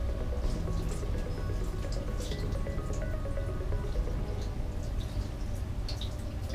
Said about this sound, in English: we're gonna rinse off our red pepper